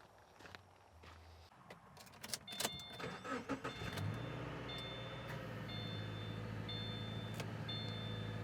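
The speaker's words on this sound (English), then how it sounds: "Now we'll go ahead and start the engine up, set the AC to maximum, and continue the process." A car engine cranks and catches after a few clicks and footsteps, then settles into a steady idle with the air conditioning blower running at maximum, a constant close hum with faint intermittent beeps.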